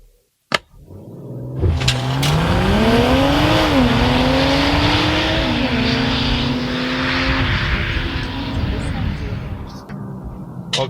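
A BMW M240i launches hard with launch control: the engine revs up steadily and loudly, shifting gears as the roar climbs, sustained and close, with a person speaking over it at points.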